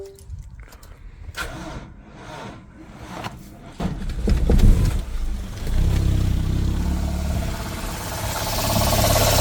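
A Toyota Glanza with a bad belt cranks and fires, then runs with a loud, strained engine roar and a high shrill squeal building over the idle as it continues.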